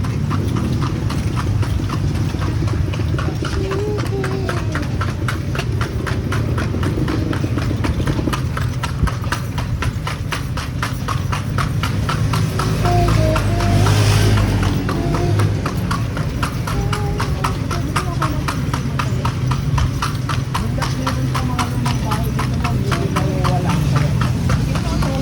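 Horse-drawn carriage on the streets of the Vigan heritage district, steady rhythmic hoof clip-clop continuing throughout under a constant engine-like rumble, with people talking nearby.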